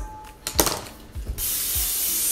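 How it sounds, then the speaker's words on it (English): A few clicks and rattles, then a steady aerosol can of cooking spray coating a bowl in one continuous hiss that runs to the end. "spray a bowl with cooking spray"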